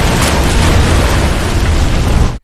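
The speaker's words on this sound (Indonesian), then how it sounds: "Yahya telah memasang bom waktu pada Musa yang kemudian meledak tepat ketika polisi sampai di sana" A loud, sustained explosion from a time bomb in a film, a dense broadband roar with deep rumble holding steady for over two seconds before cutting off abruptly.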